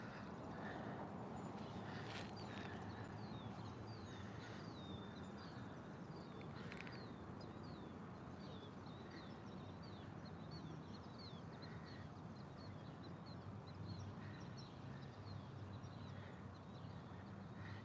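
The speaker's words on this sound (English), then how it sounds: "Does my mic pick up the birds chirping in the background?" Birds chirping and calling beside a small fishing pond, a run of faint repeated chirps over a steady outdoor background hiss and wind, heard from a distance with no talking.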